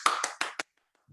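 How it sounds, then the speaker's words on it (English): A brief round of applause from a few hands, about four sharp claps in quick succession, close and fairly loud, then silence. "Round of applause."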